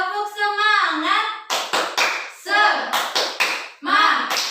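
Children in an Indonesian fifth-grade class chant and clap a rhythmic 'tepuk semangat' clap routine, with sharp bursts of hand claps alternating with sung voices in a quick, patterned rhythm, close and loud.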